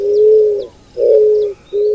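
An eared dove, the avoante, gives a few soft, low hollow coos: two sustained notes and the start of a third, separated by short pauses. It sounds fairly close and clear, with faint chirps from other birds in the background and no talking.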